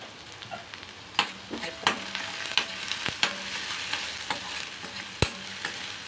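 Ingredients fry in a pan with a pinch of red chili powder and turmeric for macaroni cheese pasta, giving a soft continuous sizzle punctuated by sharp clicks and scrapes of a spatula, close up.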